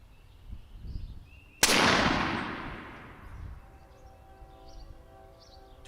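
A single loud .50 caliber Hammer carbine shot at 1.6 seconds, fired at a target 70 yards out, with a sharp crack and a long, rolling echo that fades over several seconds against quiet outdoor background.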